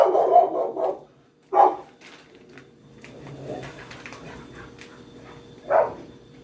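A dog in a home kitchen gives a few short, sharp barks and whimpers, spaced apart over a quiet background, with a final bark near the end.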